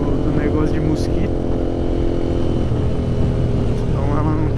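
A Honda CBX Twister motorcycle fitted with a Roncar exhaust rides along carrying a passenger, its engine droning steadily at moderate revs with a constant rumble and wind noise.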